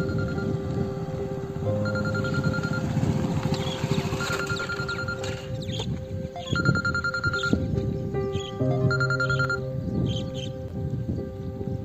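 A telephone rings in bursts of bright electronic tones, repeating several times at moderate volume over a steady background of ambient noise, in a Marathi village setting with a police patil.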